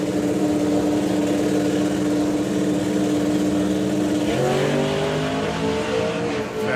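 A drag racing car launches hard down the strip at a Festival of Power meeting, a loud engine roar that shifts upward in pitch as it accelerates away, with no talk over it.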